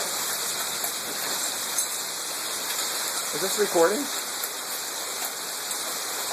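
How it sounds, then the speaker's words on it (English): Heavy rain and hail pour down steadily during an overhead thunderstorm, a dense close wash of hiss continuing throughout while people talk over it. "Look at the hail."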